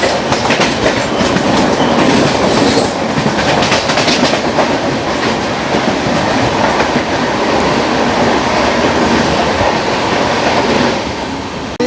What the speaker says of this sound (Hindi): एक आ रही है मुंबई नागपुर दुरंतो एक्सप्रेस